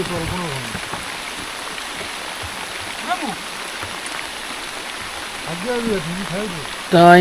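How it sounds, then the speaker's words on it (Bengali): Steady heavy storm rain patters and hisses in the background, with birdsong chirping over it and a louder burst at the end. "তো বৃষ্টি তো শুরু হয়ে গেছে"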